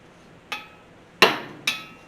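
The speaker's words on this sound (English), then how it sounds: "now I'll take a hammer and dolly and tap these corners together" Three sharp metallic taps of a hammer and dolly on sheet metal, spaced unevenly, close and ringing briefly against a quiet background, on a 1973 Chevy C10.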